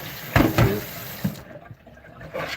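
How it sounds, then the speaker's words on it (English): Hot water running from a kitchen tap while rinsing during chili preparation, a few close splashing bursts of flowing water that ease off, then resume faintly. "can get some hot water running"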